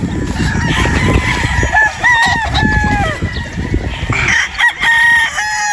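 A straight-combed gamefowl rooster of Sweater Boston bloodline crows loudly and close by, its drawn-out calls mixed with short clucks from nearby fowl.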